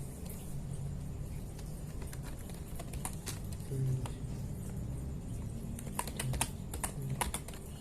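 Fingers type on a computer keyboard during a Linux Ubuntu Server install, making quiet, irregular clicks that bunch into quicker bursts toward the end, with a faint voice in the background.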